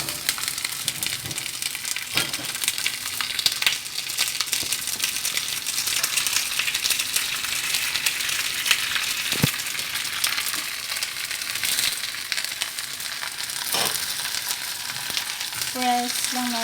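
Roti prata frying in butter in a pan over low heat, a steady crackling sizzle throughout with a few sharp clinks and scrapes of a utensil against the pan.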